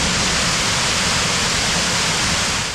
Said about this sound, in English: Here we are at Whitewater Falls.